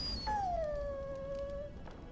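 A dog in the Dragon Age Origins video game lets out a single drawn-out whimper that rises and then slides down into a long, thin whine, fairly faint and heard alone with no talking.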